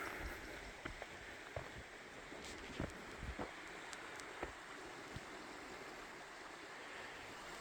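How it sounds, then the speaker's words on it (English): A stream flows in the Tillamook State Forest in Oregon's coastal mountains, a steady faint rush of water with occasional close ticks and rustles. "You can hear that stream down there."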